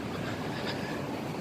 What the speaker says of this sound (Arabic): هذا القطار اللي يوديني لمدينتي هاسلت.